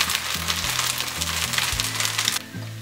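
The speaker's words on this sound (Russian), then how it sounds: "Первый блин я пожарю на остатках растопленного сливочного масла" A thin whey pancake fries in a pan greased with leftover melted butter, giving a steady close sizzle that drops away near the end over a low background hum.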